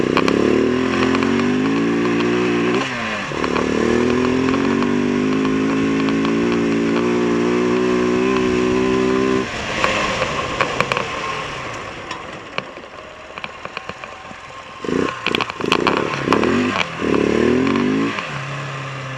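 A KTM 690 motorcycle with a fuel-related stalling fault bogs along while being ridden, its engine drone steady and fairly loud for about nine seconds, then fading before returning in short uneven bursts.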